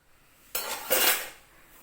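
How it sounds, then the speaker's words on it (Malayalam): Dishes and cutlery clatter twice in quick succession while dishes are washed in a kitchen, a sharp clink followed by a louder rattling scrape that fades out. "ഞാനിവിടെ അടുക്കളയിൽ പാത്രം കഴുകണതും"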